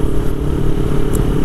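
A Harley Davidson 1200 Custom motorcycle engine runs with a loud, steady low rumble heard close up, with no voices over it.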